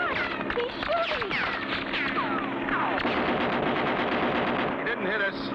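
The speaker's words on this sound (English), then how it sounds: "Look, he's shooting." An attacking plane fires cartoon gunfire in rapid bursts of rattling shots, mixed with engine drone, whistling effects and excited voices.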